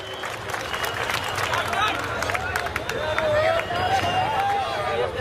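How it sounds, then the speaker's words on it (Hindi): Audience applause and crowd noise at an Urdu mushaira in Charminar, Hyderabad, greeting poet Johar Kanpuri; steady clapping and babble fill the space throughout, with voices mixed in. "तालियों से जोरदार इस्तकबाल फरमाएं जनाब जौहर कानपुरी का"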